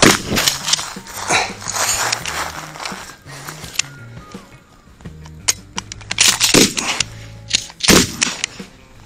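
Shotgun shots fired during a shooting class drill, with the shooter moving around a barricade to fire high and low. Several sharp, loud reports come irregularly through the clip over background noise and movement.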